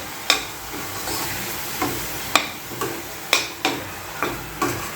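A ground masala paste fries in oil for an egg curry, giving a steady low sizzle with around nine sharp spatula scrapes and taps at irregular intervals, close by, with no voices.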